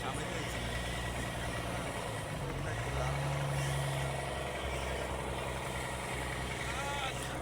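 Trawler and launch engines idling at a busy ferry ghat on Hatiya, a steady low mechanical drone with a louder rumbling engine swelling midway, fairly quiet and continuous with general background activity.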